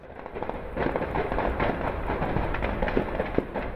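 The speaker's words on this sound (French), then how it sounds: "des explosions, des tirs retentissent à Dammartin en Gaule" A dense, continuous rumble of crackling blasts and sharp pops, explosions and gunfire from an assault during a hostage siege in Dammartin-en-Goële, steady throughout with no voices.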